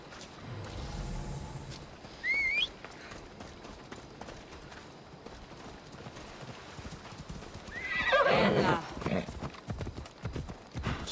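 Horse in Assassin's Creed Odyssey clip-clopping steadily with a shrill whinny early on and a louder neigh later, hoofbeats close and continuous.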